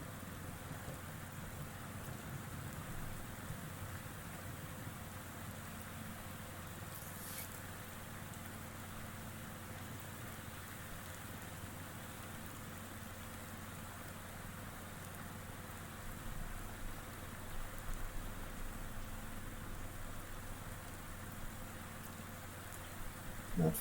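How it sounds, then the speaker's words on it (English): Steady rain falls in the Fallout 4 video game, a constant soft hiss over a low hum that holds evenly throughout. "So let's get out of the rain"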